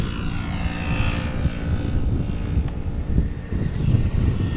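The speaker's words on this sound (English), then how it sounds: "It is an A319, destination London Luton." An easyJet Airbus A319 bound for London Luton takes off at Amsterdam Schiphol, its jet engines giving a steady, loud roar that swells and fades slightly, with no voices.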